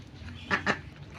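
Ducks at feeding time alongside goats, giving two short quacking bursts close by over a low background murmur.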